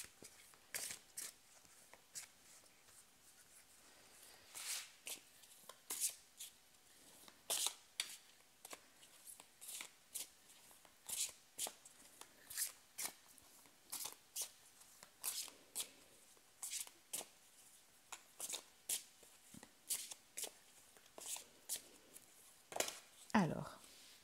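Tarot cards are shuffled over and over in quick, soft riffling bursts that come close and faint in a steady rhythm, with some quiet movement between them.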